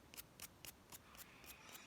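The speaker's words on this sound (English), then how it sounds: "We've got a nail file," A nail file rasps in seven short, evenly spaced strokes with brief gaps between them, each scratch crisp and fairly quiet, with no talking.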